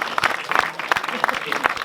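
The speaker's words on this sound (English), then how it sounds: "Go on, give him another round of applause." A crowd at a fishing match final at Larford Lakes applauds an angler, with brisk, close clapping running throughout in short uneven bursts.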